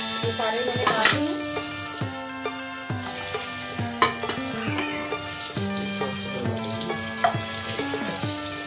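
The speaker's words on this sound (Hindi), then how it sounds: "थोड़ा सा लाल मिर्च पाउडर, इन्हें मैं फ्राई कर दूंगी" Arbi leaf rolls with red chili powder fry in a pan, a steady sizzle under recurring stirring scrapes and clinks, with some watery splashing and a tonal hum behind it.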